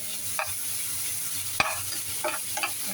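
Beans and tomato get stirred in a frying pan, a soft sizzle running under several clattering scrapes of the spoon against the pan, with no one talking.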